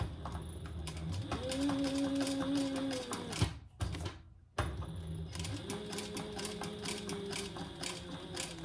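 A sewing machine stitches a crossbody bag in two bursts of rapid, even needle chatter separated by a brief pause, with the motor's steady hum carrying under each run.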